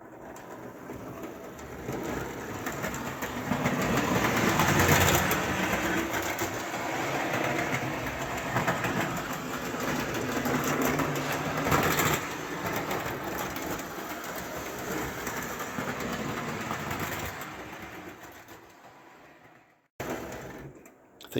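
Repaired Marx 150 O gauge toy locomotive running on a layout track, a steady rumbling, rattling hum that continues for about twenty seconds at moderate volume before cutting out, no talk.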